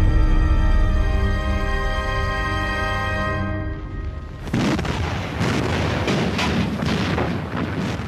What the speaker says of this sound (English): Allied battleships begin a full-scale bombardment of the German positions.